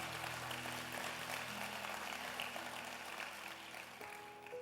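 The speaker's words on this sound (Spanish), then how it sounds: "Si usted lo entiende, den un aplauso al Señor." A church congregation applauds together at a sermon, a steady wash of dense clapping that holds evenly across the clip with a slight fade near the end, some faint organ or keyboard tones underneath.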